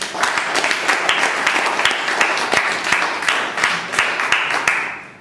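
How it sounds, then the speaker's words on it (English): An audience applauds a speaker at a stage event, steady dense clapping from many hands filling the room, with a few sharper close claps standing out before it tapers off at the end. "Round of applause for him"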